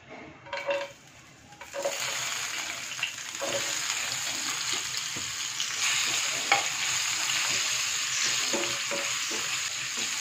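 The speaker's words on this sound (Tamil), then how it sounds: "நல்லா நெய்யில் நல்லா கிறிஸ்பியாக வரைக்கும் நல்லா இதை ஃப்ரை பண்ணி எடுத்துடலாம்." Dates, dried fruit and soaked almonds frying in ghee, crackling loudly and continuously after a short quieter start, with occasional spoon scrapes against the pan.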